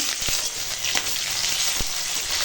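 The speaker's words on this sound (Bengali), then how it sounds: "এখানে আছে আদা রসুন বাটা কাঁচা লঙ্কা তেজপাতা টমেটো দিলাম" Ginger garlic paste, green chilli, bay leaf and tomato fry with browned onion for a chicken and potato curry, a loud, dense, close sizzle with a few sharp spatula knocks against the pan.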